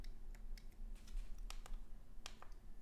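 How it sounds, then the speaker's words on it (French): Light plastic calculator keys tapped in a quick, uneven run of soft clicks, close and quiet over a low steady hum. "On tape ça à la calculatrice"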